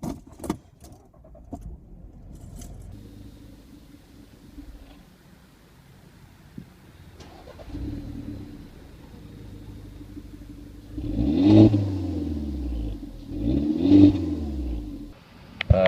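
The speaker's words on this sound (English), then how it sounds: "let's start the car and hear the exhaust" A 2011 Audi A1 is started nearby after some faint clicks and key rattles. The engine catches and settles into a steady idle, then the exhaust swells through two rising revs that fall back each time.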